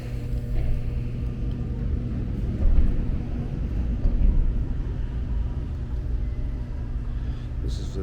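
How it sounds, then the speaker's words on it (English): A Bentley Continental GT W12 engine idles nearby, a steady low rumble that holds evenly throughout with slight swells in level, heard alone without talk. "This is a W12 engine from Bentley."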